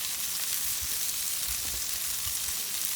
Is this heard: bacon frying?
yes